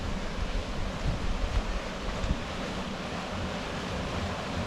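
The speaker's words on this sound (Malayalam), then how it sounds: "ഇതാണ് ഞങ്ങളുടെ തോട്." A village stream used for fishing and bathing rushes steadily, a broad continuous wash of flowing water with no talk.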